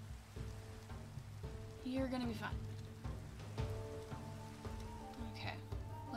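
Rain falling in Minecraft, a soft, steady hiss of drops running under a quiet game soundtrack, with a voice briefly speaking over it.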